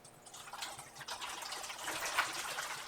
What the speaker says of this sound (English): So we're adding some water.